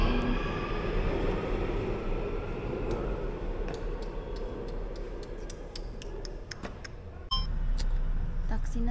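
A subway train in Busan, South Korea rumbles steadily nearby, with scattered clicks and ticks from the rails as it slows, then a sudden shift in the noise near the end.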